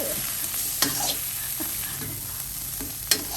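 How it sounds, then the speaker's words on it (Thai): Steady sizzling of rice with salted fish stir-fried in a hot wok, with occasional sharp metallic scrapes and clanks of a spatula against the pan. "ผัดไปเรื่อย ๆ ค่ะ"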